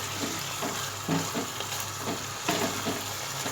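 Keema being roasted in a pan gives off a steady, fairly quiet sizzle, broken by soft rhythmic stirring scrapes every half second or so.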